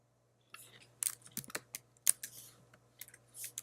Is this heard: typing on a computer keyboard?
yes